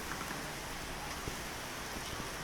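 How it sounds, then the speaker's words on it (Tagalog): Rain pours steadily, a dense continuous hiss with scattered drops pattering nearby and no talking. "Dahil malakas po yung ulan"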